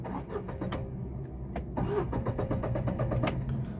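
A car's starter motor cranking repeatedly as the engine fails to catch, in a series of short whirring bursts separated by brief pauses, close and clear.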